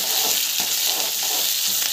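Chana dal, onion and mustard seeds fry in hot oil, a loud, close, continuous hissing sizzle with a crackling, spattering texture throughout.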